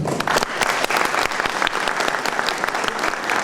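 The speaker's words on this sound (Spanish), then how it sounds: "Aquí lo recibimos, por favor, con fuertes aplausos." Loud, dense applause from an audience at a formal event, continuous clapping lasting throughout without pause or speech.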